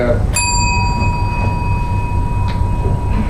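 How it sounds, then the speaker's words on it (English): A single bell strike signals the end of speaking time at an indoor speaking session. It rings out clearly and sustains a long, pure tone over a steady background murmur. "Once you hear the bell sound, try to finish your statement."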